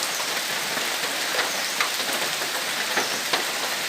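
Heavy rain falls steadily on a rural Bangladesh farmyard, a dense continuous hiss with scattered sharper drops on surfaces, loud and close, with no voices.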